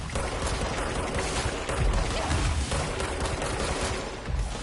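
Dense, continuous gunfire from the game Control rattles loudly and without pause, a thick wall of rapid shots filling the whole stretch.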